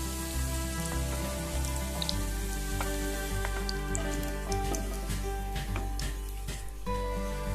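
Potato pieces fry in hot oil in a pan for a Bengali vegetarian aloo dum, a steady dense crackling sizzle that runs close and loud throughout with no one talking.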